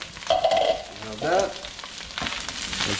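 Shrimp enchilado, a Cuban shrimp creole, stirred as it fries in a pan, giving a steady broadband sizzle with brief scraping and clinking bursts from the spoon against the pan, close and fairly loud.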